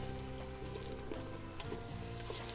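Garlic frying in a pan for a Sudanese beef stew gives a constant, moderately loud sizzle with faint stirring scrapes mixed in.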